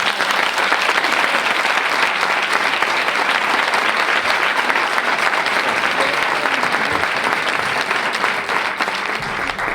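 A conference audience breaks into sustained applause at the close of a session, a dense, even wash of clapping lasting several seconds with no talk over it.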